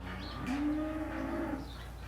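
Cows moo on a dairy farm in Clark County, Wisconsin, one long, loud bovine call rising and holding for about a second over steady barn ambience, with no voices.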